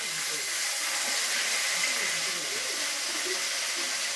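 Fish frying in a pan over a home stove fired with jute sticks, a steady, unbroken sizzling hiss that holds at an even level throughout.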